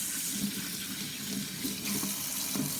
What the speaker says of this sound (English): I will also nicely rinse my parsley leaves